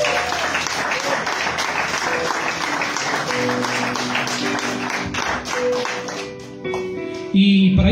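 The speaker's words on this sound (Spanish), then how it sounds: "Dale fuerte aplauso al Señor" A church congregation breaks into loud, sustained applause, dense clapping that carries on for several seconds before thinning out, with voices mixed in underneath.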